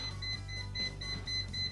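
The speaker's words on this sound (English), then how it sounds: "we finally have that high current alarm letting us know that we are in the danger zone." An ANENG 9002 multimeter sounds its high current alarm at 10 amps as a steady train of short, shrill electronic beeps, evenly spaced and repeating over a continuous background hum.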